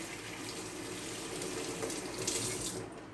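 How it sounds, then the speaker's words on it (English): Filtered water runs steadily from a tap into a cooking pot for pineapple tea, a continuous close hiss and splash that fades out at the end, with no talking. "I'm just going to add filtered water"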